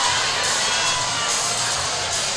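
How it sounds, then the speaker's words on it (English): Crowd cheering at a high school basketball tournament in the Bloomfield High School gym, a loud, continuous roar of many voices with shouts and whoops, steady throughout. "Huge crowd on hand here."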